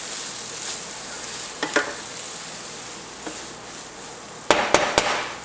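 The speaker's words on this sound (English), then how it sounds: "we're going to start adding our beans into our pot. We're going to give this a quick stir." Beans and garlic hit a hot pot for refried beans, a soft sizzle under several sharp spoon knocks and scrapes against the pot, with a cluster of louder clacks near the end.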